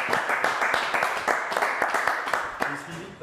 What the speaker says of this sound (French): On va applaudir Franck quand même.